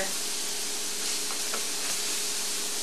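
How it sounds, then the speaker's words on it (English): Garlic sautéing in a pan for a liver fry, a loud continuous close sizzle with faint stirring scrapes. "We're gonna saute some garlic"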